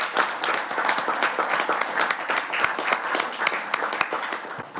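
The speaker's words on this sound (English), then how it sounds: "let's give them one last round of applause" Sustained applause and clapping from a legislative hearing room audience at a state Senate education committee session, dense and steady throughout without a break.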